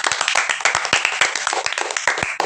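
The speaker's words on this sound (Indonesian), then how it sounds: "Tepuk tangan dulu." A small studio audience at a podcast recording claps for a guest, giving a brisk burst of sharp, close hand claps that run steadily for a couple of seconds.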